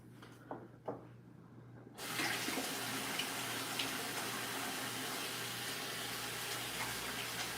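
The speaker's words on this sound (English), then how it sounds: "I'm going to wash my hands right quick." Tap water runs steadily into a kitchen sink while hands are washed mid-cooking, a constant close hiss that starts after a couple of seconds of faint handling noises.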